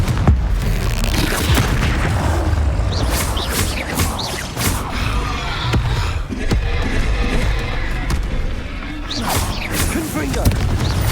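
Confringo spell blasts in Hogwarts Legacy, a series of sharp booms and crackling bursts repeating over a dense, continuous game soundscape, with a voice heard at times.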